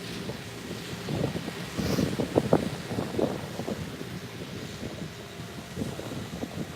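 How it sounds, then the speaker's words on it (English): Outdoor wind buffeting a microphone with a steady low roar and gusty rumbling bursts that swell in the middle, continuous and fairly loud, with no talking. "the wind doesn't help at all, Lily."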